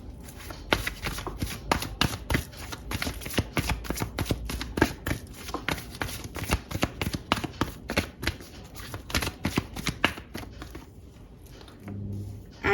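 Tarot cards shuffled by hand in quick rapid riffles and flicks, close and crisp, continuing steadily for several seconds before slowing near the end.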